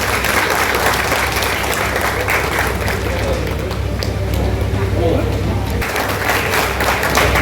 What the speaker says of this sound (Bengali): প্রত্যেকে একটু হাততালি দেবেন।